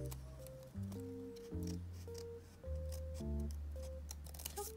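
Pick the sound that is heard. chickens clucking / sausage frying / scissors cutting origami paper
scissors cutting origami paper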